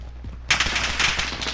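Gunfire in Call of Duty: Modern Warfare, a burst of rapid shots starting abruptly after a moment of quiet and continuing loud and dense to the end.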